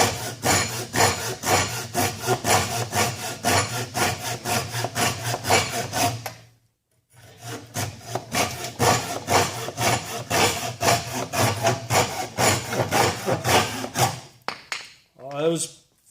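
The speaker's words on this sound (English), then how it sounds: "This is the Wicked Tree Gear Wicked Tough handsaw." A Wicked Tree Gear Wicked Tough hand saw rasps through wood in fast, steady back-and-forth strokes, close and loud, pausing briefly midway before resuming, with a short voice at the end.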